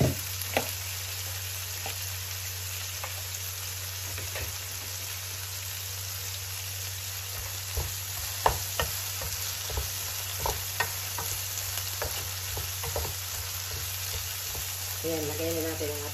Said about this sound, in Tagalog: Tapos lagay na natin yung ating sauce.